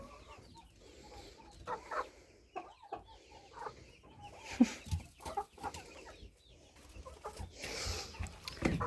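Hens, including Faverolles and broilers, clucking softly nearby in irregular bursts, with a person quietly calling and shooing them between the clucks.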